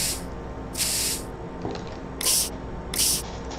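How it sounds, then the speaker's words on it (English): Water spray used to clean dinosaur bones in the video game Dinosaur Fossil Hunter: four bright hissing bursts of spray, each about half a second long, over a steady background hum. "So we are just spraying it with water to clean everything up."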